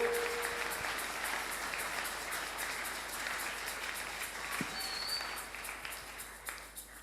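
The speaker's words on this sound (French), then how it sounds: "On acclame pour le Seigneur. Tobeteli nkolo maboko." A worship congregation claps and applauds for the Lord in a steady, dense wave of hands that holds for several seconds, close and full, with a few faint voices mixed in.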